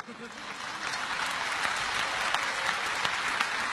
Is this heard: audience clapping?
yes